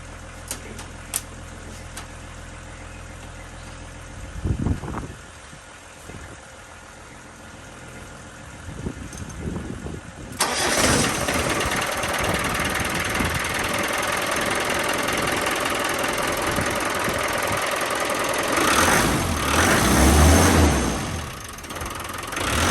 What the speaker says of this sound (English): Beautiful, genuine first start, as you can tell by all the crap that come out the fan.